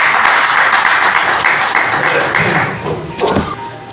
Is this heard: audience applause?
yes